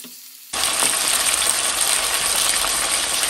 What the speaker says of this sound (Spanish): En una cacerola vamos a agregar un chorrito de aceite y vamos a empezar a agregar bistec de res.